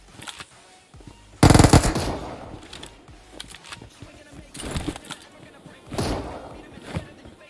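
Gunfire from PUBG Mobile: a loud close burst of automatic fire, then scattered single shots and shorter bursts at varying distances, with people talking over it.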